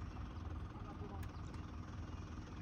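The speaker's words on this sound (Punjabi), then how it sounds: "ਦੇਖੋ ਟਰੈਕਟਰ ਖੁੱਭ ਗਿਆ" A 4x4 tractor stuck in mud idles with a steady, low, rumbling engine drone that holds at an even level throughout.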